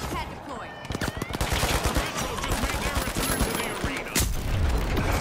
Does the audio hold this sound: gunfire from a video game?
yes